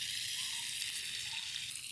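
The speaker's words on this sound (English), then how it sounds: "So let's go ahead and fry up the bacon first." Bacon and sausages sizzle steadily in a pan on a 1200W portable electric infrared burner, a continuous close, even crackle with no talking.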